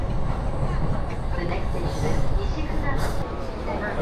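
Inside a moving Sobu line train in Tokyo heading toward Shinjuku, a loud steady rumble with faint rail clatter running throughout and no clear talk over it.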